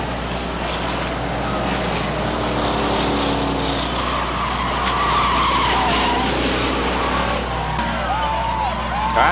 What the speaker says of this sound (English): Cars tangle hard off the top of turn number one.